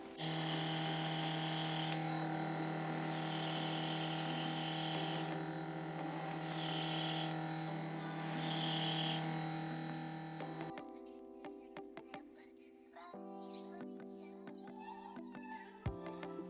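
An airbrush sprays Temptu SB foundation in shade 7 for nose contouring, giving a steady close electric hum and hiss for about ten seconds. It then cuts off, leaving only faint clicks and a low hum.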